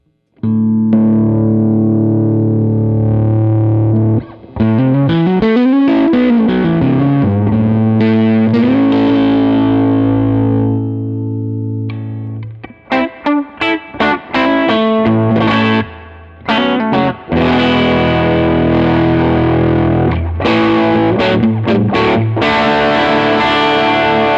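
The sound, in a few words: guitar amp boost overdriving tube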